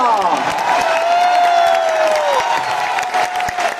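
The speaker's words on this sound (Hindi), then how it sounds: "वाह वाह वाह वाह वाह, तालियां" A crowd at a public gathering with actor Anupam Kher bursts into loud, sustained applause and cheering, with whoops and excited voices in a continuous wash of clapping.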